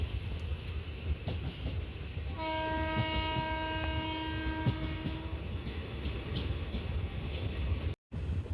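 A train on the Kollam–Chenkotta line heads onto a bridge just past Punalur station, sounding a steady horn blast for about three seconds over a constant rolling rumble of the carriages.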